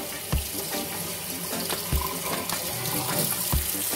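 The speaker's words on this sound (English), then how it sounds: "I just wash my hands." Tap water runs steadily into a kitchen sink while hands are washed, a continuous splashing hiss with a few louder knocks and splashes, close and clear with no talking.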